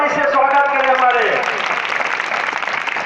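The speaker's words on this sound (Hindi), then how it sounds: "जोरदार ताली से स्वागत करें।" A voice speaks briefly, then a crowd at a religious festival gathering breaks into sustained applause welcoming a guest, steady clapping that carries on to the end.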